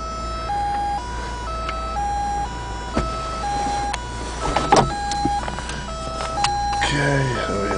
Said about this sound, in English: And the power top works.